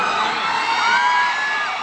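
A crowd at SM City Cebu in the Philippines screams and cheers loudly all at once, a dense, continuous wall of high-pitched whoops and yells close by for a couple of seconds.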